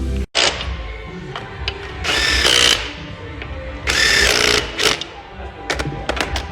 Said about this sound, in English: Tighten up all the head bolts in this sequence.